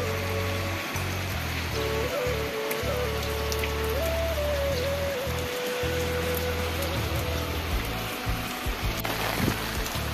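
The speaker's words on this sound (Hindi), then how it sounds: "लगातार तेज बारिश हो रही है यहाँ पर" Heavy rain pours down steadily, a dense broadband hiss of drops striking surfaces, with a faint tonal hum running underneath.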